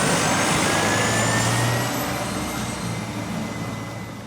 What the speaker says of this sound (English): Here's my next and final Volvo B70L arriving into Godstone Green